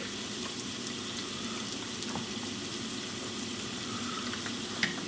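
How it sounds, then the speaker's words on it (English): Garlic butter sizzles steadily over beef sirloin bites in a hot pan, a close, even frying hiss that holds for the whole stretch with faint stirring clicks and no talk. "we'll take some garlic butter and toss it onto our steak"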